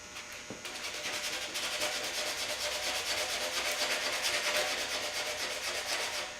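Sandpaper, 80 grit, rasps back and forth over wood by hand in quick, steady strokes, close and continuous, with no voices.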